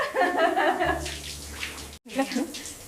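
Water splashes and pours during a bath in cold weather, with sloshing bursts near the start and after a short gap, while a voice talks over it.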